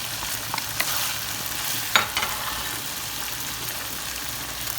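Capsicum, carrot, cabbage and green onion stir-fry in a hot pan for chicken fried rice, giving a steady, close sizzle broken by a few scraping stirs, with no talking.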